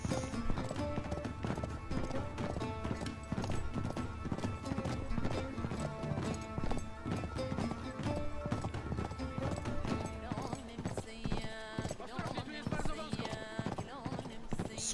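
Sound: horse hooves in video game Uncharted 3

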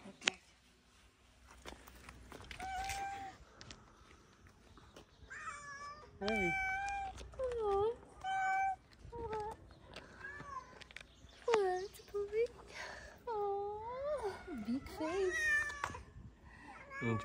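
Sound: cat loudly meowing

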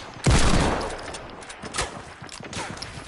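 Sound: gunfire in a video game

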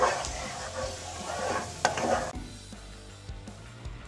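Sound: stirring jaggery syrup on medium flame

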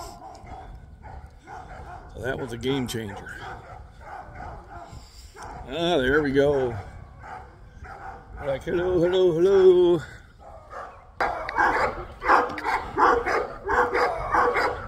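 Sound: dogs barking on a farm

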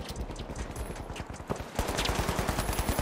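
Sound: gunfire in the video game The Finals

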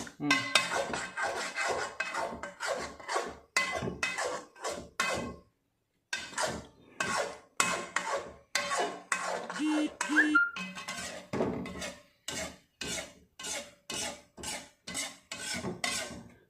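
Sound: stirring gravy in a cooking pot

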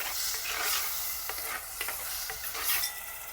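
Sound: stirring chickpeas in a pot on a wood stove

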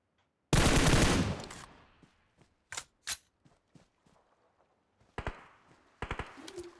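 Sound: gunfire in a video game

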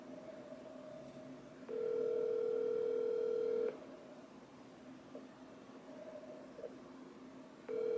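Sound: phone call ringing on speaker

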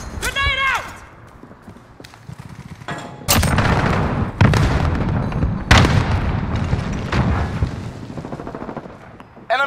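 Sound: gunfire and explosions in a video game battle

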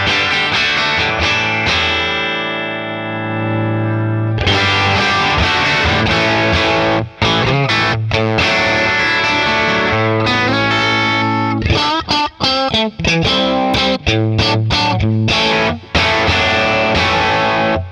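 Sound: electric guitar crunch through Boss Katana 50 Gen3 pushed amp

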